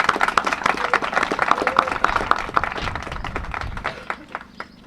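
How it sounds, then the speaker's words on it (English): Scattered applause from a small audience at a Middletown housing program event, uneven clapping that thins out and fades toward the end. "So I'd like to give them a round of applause."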